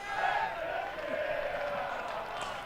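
Cricket crowd at a one-day cup semi-final between Leicestershire Foxes and Notts Outlaws, a steady roar of voices with some shouts rising after an LBW appeal, and a commentator talking over it throughout.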